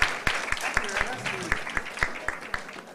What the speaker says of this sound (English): Please a round of applause as one of the children comes forward.